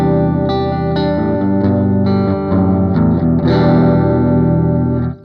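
Electric guitar played through a bridged Marshall amp, heavily distorted with effects, holding thick sustained chords and shifting notes loudly and continuously before cutting off at the end.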